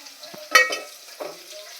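Tomatoes tipped into a hot pan of pappucharu with drumsticks already cooking give a short burst of sizzling and a metal clink, then quieter stirring and frying.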